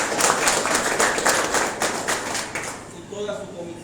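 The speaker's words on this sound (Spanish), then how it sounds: "compañero Juan Carlos, y líder de Tempual, también un aplauso para él" Audience at a Mexican union delegates' swearing-in event gives a short burst of rhythmic applause that fades out, with a voice speaking near the end.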